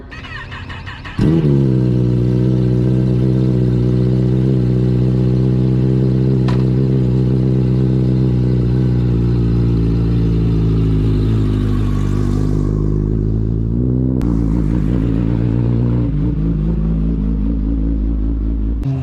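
A Kawasaki ZX10R sport motorcycle, fitted with a newly set-up suspension, roars in loudly and holds a strong, steady engine drone. The pitch dips and shifts slightly as the lap goes on.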